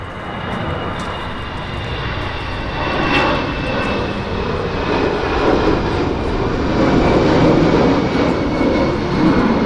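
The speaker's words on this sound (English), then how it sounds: "Airbus A319 of Lufthansa headed back to Frankfurt. As he is departing" A Lufthansa Airbus A319 airliner departs Manchester airport bound for Frankfurt, its engines giving a loud continuous roar that swells gradually and holds steady.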